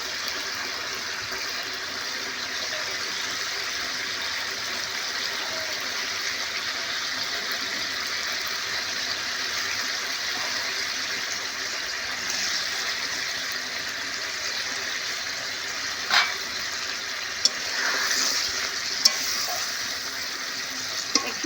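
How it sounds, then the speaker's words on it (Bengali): A spicy fish curry gravy bubbles in a pan, giving a steady soft sizzling simmer, with a few louder clinks and knocks near the end. "বন্ধুরা ঝোল ফুটে উঠেছে বেশ হয়েও গেছে"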